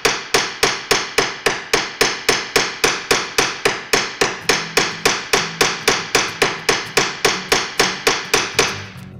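Steady, rapid strikes from the round side of a hammer on a metal bracelet, about three per second, each a sharp ringing tap, close and loud with no voices.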